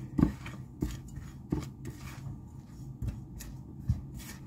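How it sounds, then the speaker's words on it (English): Spoon scraping and tapping through a bowl of veggie cake mixture as garlic salt and seasonings get stirred in, with several sharp clinks at irregular intervals and softer scraping between, close and fairly quiet. "And we're going to mix all that together."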